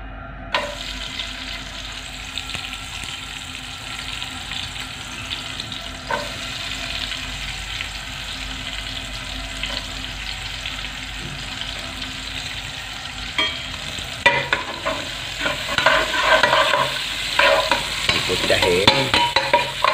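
Onions sizzle in hot cooking oil, a steady crackling fry with no talking that grows louder and busier over the final few seconds.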